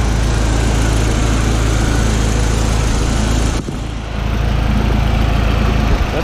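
Audi A4 1.8T with a freshly replaced water pump idling steadily and close by, a constant engine drone that briefly dips near the middle before settling back to an even idle.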